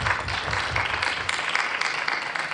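A conference hall audience at the INDIASOFT 2025 and India Electronics Expo session applauds a speaker, a continuous crowd clapping that is fairly loud and dense throughout, with no one talking.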